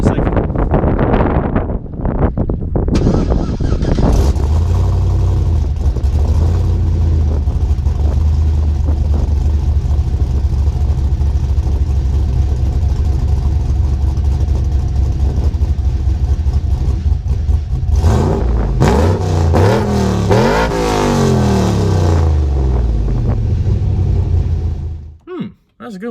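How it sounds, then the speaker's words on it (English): A cammed truck engine rumbles loudly and continuously, with buffeting wind noise, then rises in a couple of revs toward the end before cutting off abruptly. "So I'll give you guys a couple revs, maybe like 6 grand, maybe 5 grand"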